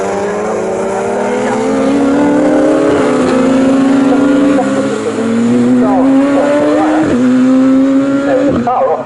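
Race cars at Snetterton circuit rev loudly with rising engine pitches and gear changes during a Bikesports Championship race, while a commentator speaks over the engine noise.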